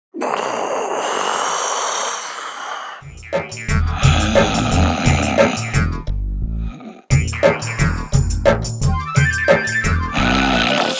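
A loud, raspy snore rumbles up close for a few seconds, then music starts and plays on.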